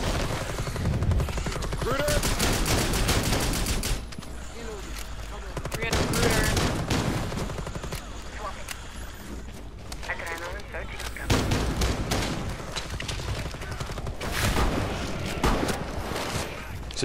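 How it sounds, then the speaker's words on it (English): Gunfire in the game Rainbow Six Siege Outbreak, bursts of shots mixed with chaotic game noise and voices talking over it. "I'm shooting, I'm shooting."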